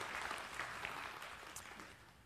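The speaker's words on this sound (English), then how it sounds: "Give them applause on that one." Congregation applause in a church service, a steady wash of many hands clapping at moderate distance, fairly faint and continuous for a couple of seconds.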